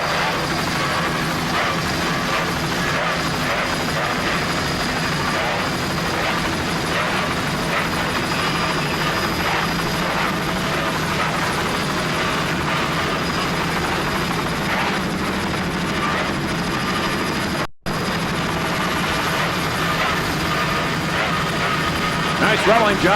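Racing powerboat Outcast, a 30-foot boat with twin 200 hp Mercury outboards, roars steadily at speed during a Key West offshore championship race, a loud continuous drone under commentary with one brief dropout near the end.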